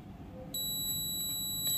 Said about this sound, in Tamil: எனக்கு ஒன் சைடு பீப் சவுண்ட் வருது.